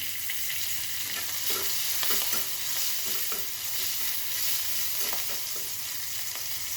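Chopped chili and garlic frying and being stirred with vegetables in a pan, a steady broadband sizzle with scattered scraping stir strokes, close and continuous, no talking.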